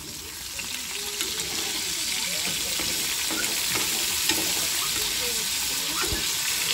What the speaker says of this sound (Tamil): நானும் இப்படிதான் வதக்கி விட்டுறேன் கட்டு.